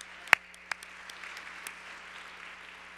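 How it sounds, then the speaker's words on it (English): Audience applause fills the room at a gala, a soft, steady wash of distant clapping from a crowd with a few sharper, nearer claps standing out near the start. "See, that's a bigger round of applause."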